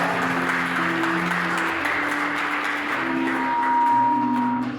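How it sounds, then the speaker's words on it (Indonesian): Steady applause from a wedding crowd fills the room, with a low hum and faint chatter underneath. "Oke, kasih tepuk tangan Bapak Ibu sekalian."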